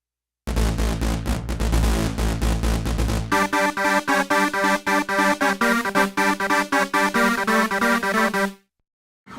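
Keyboard patch played dry, with the master effect and talking modulator removed: a dense sustained chord swell gives way to rapid, evenly repeated staccato synth notes in a steady rhythm, close and loud, ending abruptly.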